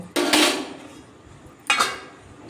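Two separate clanks of metal on a pot, about a second and a half apart, as mango pulp simmering for sweet-sour mango leather is stirred and the pot is covered with its lid; close and moderately loud, with a quiet pause between them.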